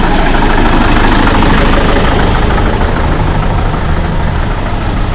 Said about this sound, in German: So, dann kommt hier noch ein Deutz Traktor.